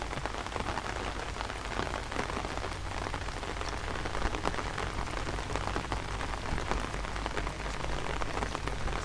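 Steady rain falls and patters densely on a durian orchard beside a road, an even, unbroken hiss of drops with no voices.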